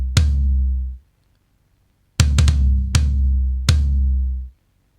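Superior Drummer sampled toms after EQ and multiband compression, one heavy single hit followed by a quick flam and two more booming strokes, each full, deep and sustained before cutting off.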